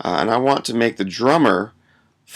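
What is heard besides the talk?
None of the usual background noises is heard.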